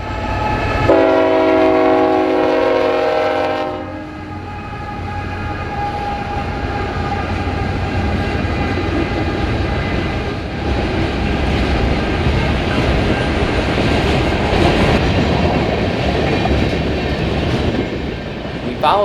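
Canadian National freight train near Byron Hill, opening with a loud multi-tone horn blast for several seconds, then a steady, heavy rumble and clatter of cars rolling past close by.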